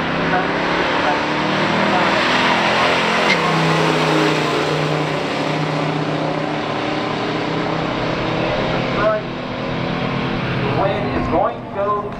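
Engines roar and rev steadily from a 1970 Buick GSX Stage 1 and a 1971 Plymouth Duster 340 at a drag strip, with a loud announcer talking over the constant motor noise.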